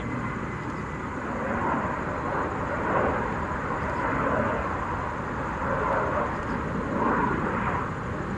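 An RCAF CF-18 fighter jet of the Alouette squadron landing at Montreal's airport, heard as a steady, loud broadband engine roar that swells slightly and holds throughout.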